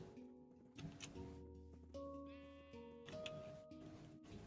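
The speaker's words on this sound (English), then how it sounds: "There are plenty of other sheep here." Sheep bleat in a video game, soft and faint, mixed with steady tonal game sounds that run throughout.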